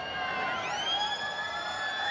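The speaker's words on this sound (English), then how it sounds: "the siren has sounded" Long electronic half-time siren sounding at a 1995 rugby league match between the Sydney Bulldogs and Auckland Warriors, a sustained wailing tone with a rising sweep partway through, heard clearly over distant crowd noise.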